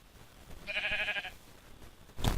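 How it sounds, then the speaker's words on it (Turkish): A single short sheep bleat from the Minecraft video game, a brief nasal "baa" at moderate volume, followed by a soft thump. "Bağırıyor da koyun. Koyun bağırıyor. Me diyor."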